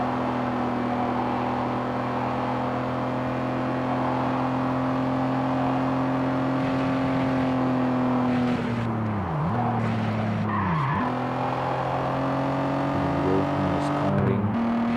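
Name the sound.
car driving in Gear Club video game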